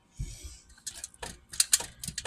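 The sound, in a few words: knife cutting a bread roll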